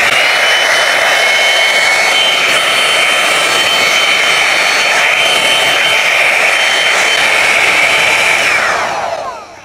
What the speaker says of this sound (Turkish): Hava üflemesi yüksek olduğu için saçlar fönü çekerken uçuşuyor